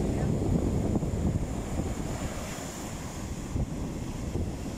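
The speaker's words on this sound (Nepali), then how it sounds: "त हेर्नुहोस् कति रमाइलो छाल आइरहेछ" Sea waves rolling onto the shore in Oman, a steady near wash of surf mixed with wind rumble against the microphone, moderately quiet and continuous.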